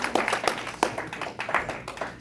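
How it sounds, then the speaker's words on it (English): Sparse hand claps from a small audience, a few sharp, close slaps in a loose, uneven rhythm over a short stretch, with no talking. "Clap for him for drinking the Kool-Aid."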